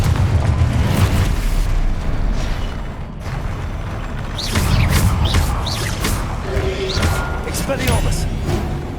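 Confringo blasting curse explosions in the Hogwarts Legacy video game, several booming bursts and crackling blasts amid continuous combat noise, with a voice speaking over the fighting.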